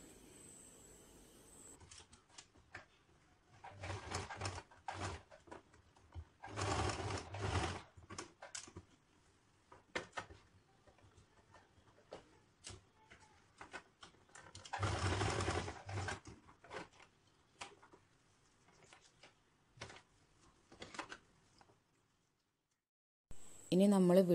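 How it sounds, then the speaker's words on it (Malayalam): A sewing machine stitches the two ends of a skirt's elastic waistband together in several short bursts separated by pauses, fairly quiet and close, with handling noises between runs. "ഇനി ഈ 2 ഇലാസ്റ്റിക്കിൻ്റെ പോർഷനും കൂടി നമുക്ക് കൂട്ടി തയ്ച്ചു കൊടുക്കണം."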